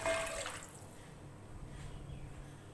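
Two cups of water are poured into fried masala for chana dal, a brief splashing gush at the start that fades into a soft, steady bubbling hiss in the pan.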